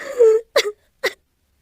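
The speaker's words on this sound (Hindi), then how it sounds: "तभी उसे अपने पास किसी के रोने की आवाज सुनाई दी" Crying sound effect in a horror story: a drawn-out moaning wail followed by two short sobbing whimpers, close and loud, with silence between and after.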